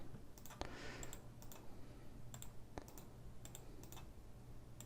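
Soft, quick computer mouse clicks come in small bursts of one or two while modeling in Rhino 7 software, faint and close against a quiet room hum, with no voice.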